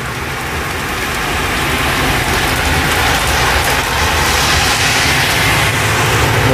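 Heavy rain pours steadily and loudly throughout a severe summer thunderstorm, a dense unbroken roar of water drumming on surfaces close by, with no voices.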